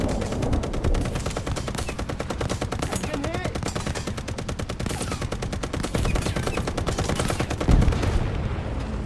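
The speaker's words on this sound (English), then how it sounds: "Oh no, machine gun!" Rapid, sustained machine-gun fire in the War Thunder tank game, a dense continuous rattle of bursts running through nearly the whole stretch, loud and close, with a heavier impact near the end.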